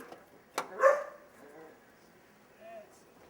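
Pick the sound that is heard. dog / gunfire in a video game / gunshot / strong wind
dog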